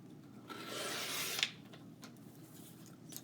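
Paper being cut into strips for a 12x12 scrapbook page layout: a single steady cutting sweep of about a second, close and fairly quiet, then a soft click and low background hush with no talking.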